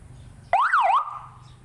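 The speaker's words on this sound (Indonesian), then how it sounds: "Yang kedua ada sirene." A Patwal seven-tone siren speaker sounds its siren tone in a single loud, short burst, the pitch sweeping up and down once before cutting off, heard close with no one talking.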